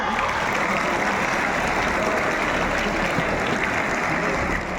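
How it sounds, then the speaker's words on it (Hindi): Loud, sustained applause from a large crowd at a school sports week opening ceremony, steady and dense throughout without a break. "एक साथ जोरदार तालियां।"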